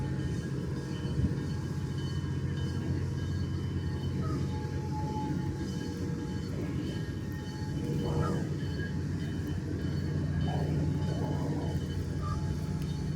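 A train rumbles past with a steady low drone and rattling, some faint squeals rising over the noise, heard at a moderate distance.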